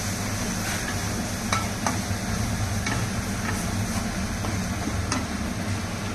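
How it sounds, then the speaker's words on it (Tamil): Ginger garlic paste fries in a pan with a steady, loud sizzle, broken by a few sharp scrapes of a utensil stirring. "ஸோ ஃபஸ்ட்டு வந்து நான் இஞ்சி பூண்டு பேஸ்ட்டு போட்டுக்கிறேன்."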